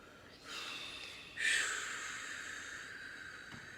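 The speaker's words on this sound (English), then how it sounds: "Exhale, exhale, exhale." A long, audible exhale during a guided breathing exercise, a soft rushing hiss of air that swells suddenly partway through and fades gradually, close to the microphone, with no talking.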